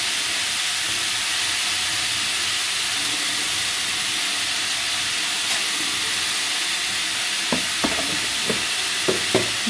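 Ash gourd frying in a little oil with salt and turmeric, giving a steady broad sizzle throughout, with a few soft scraping stir clicks near the end; no voices.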